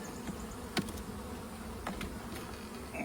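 Honeybees hum in a dense, steady drone at an opened hive with a super lifted off. A few brief knocks and clicks break through close to the microphone.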